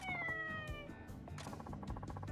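A cat in the video game Like a Dragon: Ishin! gives a long, drawn-out meow, clear and fairly close, over soft background game music with no talking.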